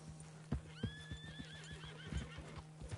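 A horse in the video game Red Dead Redemption 2 lets out a loud, shrill whinny over a steady, clopping rhythm of hooves and a low continuous hum.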